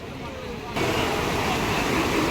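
Fast-flowing Ganga river water surges at a ghat in Haridwar after heavy rain, a steady loud rushing roar of waves that swells suddenly partway through, with wind buffeting the microphone.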